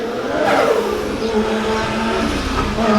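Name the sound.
drift car engine revving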